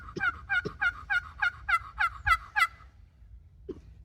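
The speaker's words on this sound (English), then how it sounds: "Makes good clucks, good yelps" A hand-held palm striker turkey call gives a run of about nine sharp, evenly spaced yelps in quick rhythm, followed by a pause and a single soft cluck, close and clear with no voices.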